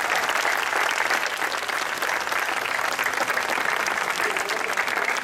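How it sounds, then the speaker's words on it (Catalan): Dense, steady applause from a concert audience fills the whole stretch at close range, with no voices rising above the clapping. "Un aplaudiment per a ells ben fort."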